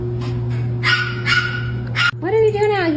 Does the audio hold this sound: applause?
no